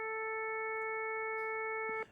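A steady synthesized tone built from several stacked harmonics, giving a trumpet-like timbre, holds evenly for about two seconds and then cuts off, alone and fairly quiet.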